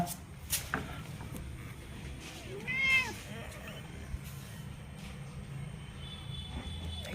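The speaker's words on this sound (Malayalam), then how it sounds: "കിക്കിമോൻ മട്ടി പൂച്ചകളെ പോലെയല്ല ഇച്ചിരി വ്യത്യസ്തനാണ്" A pet cat gives a couple of short, quiet meows near the middle, with low background hum and faint talk in a calm room.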